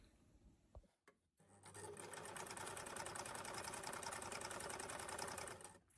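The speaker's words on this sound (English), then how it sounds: "just go and top stitch that on the machine" A sewing machine top stitches fabric, a few faint clicks giving way to a steady, rapid mechanical whirr and needle chatter that runs close and even for several seconds before stopping.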